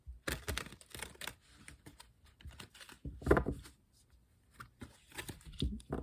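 Quiet, irregular riffling and soft slaps of tarot cards being shuffled, close and crisp, in short bursts with brief pauses between them.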